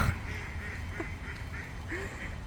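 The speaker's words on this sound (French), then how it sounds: "nos amis les canards ont fini de manger" Ducks give a few soft, scattered quacks at a moderate distance over a low background hum.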